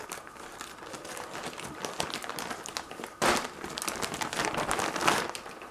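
Crinkly plastic rustling and crackling close by, with a louder burst of crumpling midway as the plastic wrapping of a bathing suit is pulled open without scissors.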